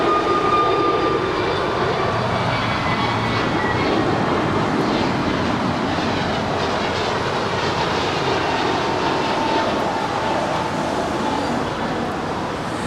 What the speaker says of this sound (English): This is American Airlines 1880 departing to Puerto Vallarta. It's an Airbus A321neo.